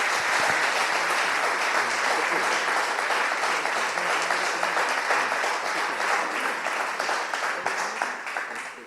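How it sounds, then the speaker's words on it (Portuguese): A church congregation applauds steadily and densely throughout, a sustained wash of many hands clapping at once during a Sunday service, fading slightly at the end. "Vamos aplaudir ao Senhor, queridos, pela vida do pastor,"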